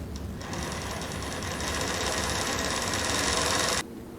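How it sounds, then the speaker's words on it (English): A Consew 227R2 industrial cylinder arm sewing machine with a KineDyne HM-750SL servo motor winds a bobbin at raised speed. It hums and whirs in a close, steady run that stops abruptly near the end. "Okay, so I put my speed back to 700 after winding a bobbin"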